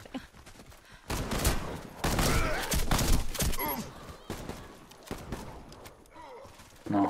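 Video game gunfire comes in several loud, rapid bursts separated by quieter gaps, the shots clustering into dense volleys near the start and middle before fading to sparser fire.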